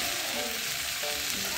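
Potatoes and vegetable bhaji being reheated and fried together with eggs in a pan, giving a steady, close, continuous sizzle with no pauses and no talk.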